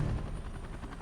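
Helicopter in the video game Resident Evil: Revelations 2, a faint steady rotor thrum with soft rhythmic pulsing and no talk over it.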